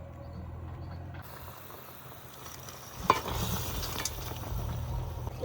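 Fried pomfret fish going into a pan of hot oil, with a steady low sizzle that swells slightly midway and carries on faintly throughout, no talking.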